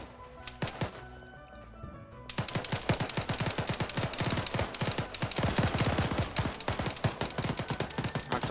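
Machine gun fire in the Arma 3 military shooter during a naval invasion: a few isolated shots, then dense rapid bursts crackle loudly and continuously, overlapping with other distant and near gunfire.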